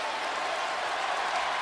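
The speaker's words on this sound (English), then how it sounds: "And allow this great big crowd to celebrate." A big crowd applauds steadily at a Kentucky basketball game against Miami, a sustained even wash of clapping filling the arena without letup.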